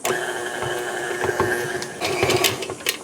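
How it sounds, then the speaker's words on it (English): An electric stand mixer kneads bread dough enriched with Wagyu beef tallow, giving a steady, close motor whir with a mechanical tonal hum and slight rhythmic knocking, alone without talk. "And now we're gonna mix this for like 6 to 10 minutes."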